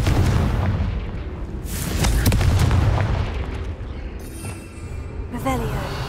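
Confringo explosion spell in the game Hogwarts Legacy, several loud booming blasts and sharp bursts over a dense rumbling background, with a spoken voice mixed in.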